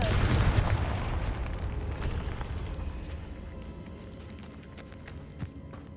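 Blast from a Confringo spell in the Hogwarts Legacy video game, a loud booming burst that rumbles and fades over several seconds into quieter scattered debris sounds, with no talking.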